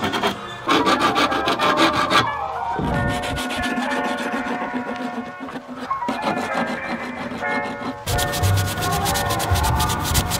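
Sandpaper rubbed by hand over rust on the body panels of a BMW E36 with Bondo widebody fenders, a steady rough scraping rasp in repeated strokes with brief pauses, close and loud with no talk.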